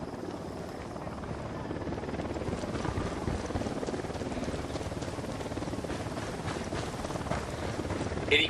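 Helicopter approaching in the video game Ghost Recon Wildlands, a steady rotor drone and engine roar building slightly toward the end, with faint speech underneath.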